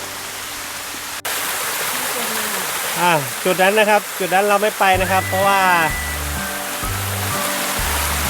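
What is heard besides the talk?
Bua Tong waterfall, Mae Taeng, Chiang Mai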